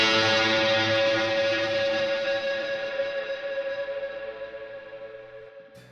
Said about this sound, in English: I stepped on another reverb pedal and then a tube screamer that was after the reverb to distort it